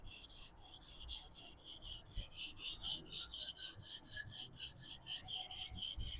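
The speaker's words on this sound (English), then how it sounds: "If I'm pressing really hard and do the sharpening" A knife is sharpened on a whetstone under heavy pressure, giving a loud, regular back-and-forth rasping grind of about twenty even strokes with no talk.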